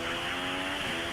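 Steady high-pitched whine of a McLaren Honda Formula 1 car engine in F1 2016, held at a constant pitch, droning and close, with no talking.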